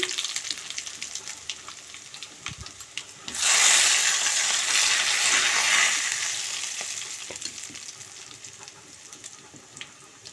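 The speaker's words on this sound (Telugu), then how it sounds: "ఇప్పుడు ఇందులోకి నాలుగు చిటక్ కొట్టుకున్న చిల్లిపాయ రెబ్బలను వేసుకుంటున్నాను నాలుగు ఎండుమిరపకాయలు కూడా వేసుకోండి" Crushed garlic cloves and dried red chillies hit hot oil for a fenugreek-leaf tomato dal, bursting into a loud, bright sizzle that stays steady for a few seconds and then gradually quiets. No one speaks over it.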